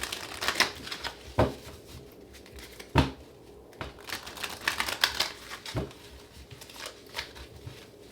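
A deck of tarot cards being shuffled by hand, giving a run of crisp riffling and slapping bursts at close range with brief pauses between them, and no talking.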